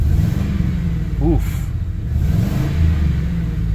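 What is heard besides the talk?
2005 Ford Crown Victoria revving with exhaust leak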